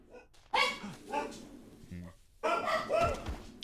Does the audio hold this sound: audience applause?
no